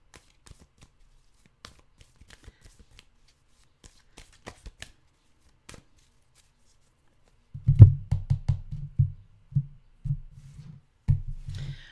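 A deck of tarot cards is shuffled close by: faint scattered taps at first, then several quick riffling bursts of cards in the last few seconds.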